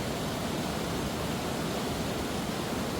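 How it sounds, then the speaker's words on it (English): A powerful, clear river rushes past at close range, giving a loud, steady roar of churning water that never lets up. "I hope you can hear me over the water."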